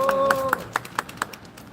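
At a union press conference filing an unfair labor practice complaint, a few people clap in a short, evenly spaced run of about seven crisp claps that fade out, with a brief voice at the start.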